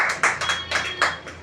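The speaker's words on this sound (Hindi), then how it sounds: "वेरी गुड, ताली बजाओ इसके लिए।" Children clapping together in a classroom, a loud close round of rapid claps with a few distinct pulses over a short stretch, and no talking over it.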